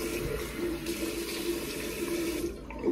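Cold tap water running steadily into a bathroom sink and splashed onto a face, a close, continuous hiss and patter that eases off near the end, with no talking.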